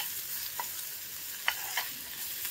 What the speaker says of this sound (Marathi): कोथिंबीर, लसूण आणि अद्रकची पेस्ट फोडणी घालतोय.